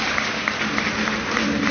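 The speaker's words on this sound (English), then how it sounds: "You can clap for me." Audience clapping for a speaker, a brief, steady wash of many hands heard at moderate loudness with a muffled, band-limited quality.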